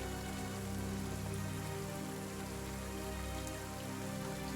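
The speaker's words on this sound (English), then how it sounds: "You can hear the rain falling." Steady rain falling, a dense continuous hiss of drops on surfaces, even and unbroken, with no voices.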